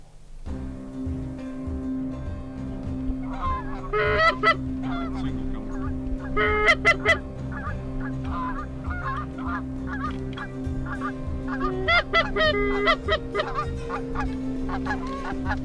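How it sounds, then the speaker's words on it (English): Waterfowl honking as they fly in over a South Dakota hunting spread, repeated bursts of calls building and fading over a steady low background drone, fairly close and moderately loud. "Here they come again, same ducks."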